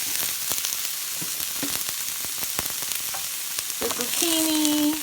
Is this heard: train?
no